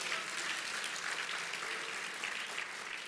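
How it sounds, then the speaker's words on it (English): A church audience at a talk on the state of the nation breaks into sustained applause. The dense, even clapping is fairly loud and continues without pause, with only a faint trace of voices beneath it. "You can clap again."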